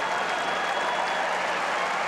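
A crowd at the 1996 Cincinnati tennis semifinal between Chang and Enqvist claps loudly and without a break, a dense, sustained wash of applause filling the stadium.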